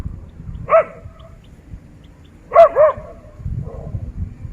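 A playful dog barks at a toy dinosaur, one sharp bark followed by a quick pair of barks, close and loud over a quiet, rumbling background.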